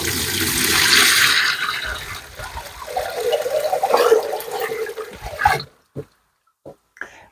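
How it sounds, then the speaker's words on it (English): Water with baby leek seedlings floating in it pours from a bucket through a sieve into a washing-up bowl: a loud, sustained splashing rush that cuts off abruptly, followed by a few scattered drips. "I've got a sieve here, so I'm just going to pour my bucket, which has got the little leeks floating in"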